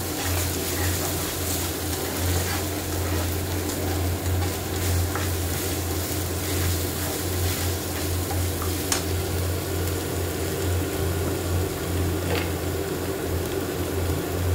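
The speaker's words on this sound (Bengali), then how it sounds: "এটা ভালো করে কষিয়ে নিতে হবে।" Masala with garlic paste is stir-fried for shahi paneer, producing a loud, continuous sizzle with a low hum beneath. Occasional faint spatula scrapes come through up close, and no one speaks.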